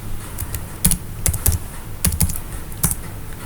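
Keys clack on a computer keyboard in irregular bursts of sharp, close taps over a low background hum, with no talking.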